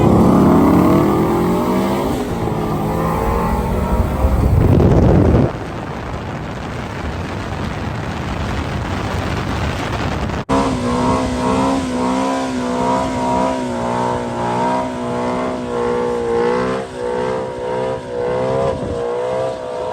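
Subaru STI and Shelby cars race from a rolling start, engines loud and sustained with rising revving tones, a burst of roaring acceleration giving way to steady climbing engine notes, no talking.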